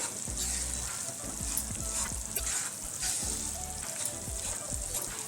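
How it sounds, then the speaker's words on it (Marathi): Finger millet (nachni) flour roasting in ghee in a pan over medium heat, with a steady soft sizzle and repeated scraping strokes of stirring, close and continuous. "एक सात आठ मिनटं आपल्याला भाजायचं आहे तर इथे आपलं हे पीठ भाजून झालेलं आहे नाचणीचं"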